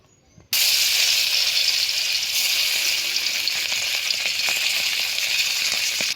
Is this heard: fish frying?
yes